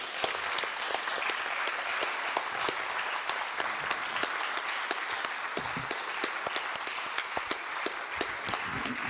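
An audience at an international conference on the Palermo Convention against transnational organized crime applauds steadily, a dense, sustained wash of many hands clapping close by with no voices over it.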